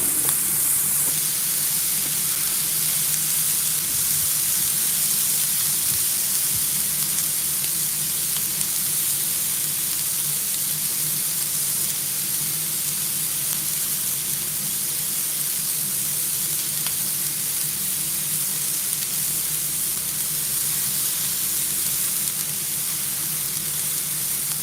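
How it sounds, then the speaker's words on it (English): Butter and food sizzling on a Traeger Flatrock griddle, a constant close frying hiss holding steady without a break for over twenty seconds, with no voices over it. "got that beautiful sizzle on that Traeger Flatrock that we're rocking"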